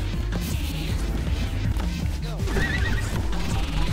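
Horse neighing in the video game Pizza Tower, a short whinny rising over dense game music, hoof clip-clops and a few crashing hits, close and loud throughout.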